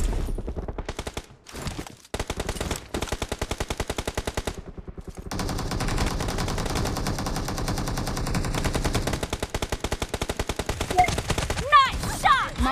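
Rapid bursts of automatic gunfire from a team-based shooting video game, loud and close, with dense machine-gun volleys rattling almost nonstop and a brief lull early on.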